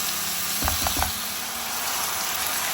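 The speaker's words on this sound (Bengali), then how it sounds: "একসাথে পেঁয়াজ, রসুন, চিকেন আমি ভেজে নিব।" Chicken frying with onion and garlic over high heat gives a steady close sizzle, with a few quick scraping stir clicks early on and no talk.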